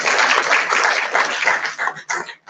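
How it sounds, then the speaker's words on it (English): An audience at an award ceremony gives a dense round of clapping, fairly loud and steady, then trails off into a few scattered claps. "big round of applause requested."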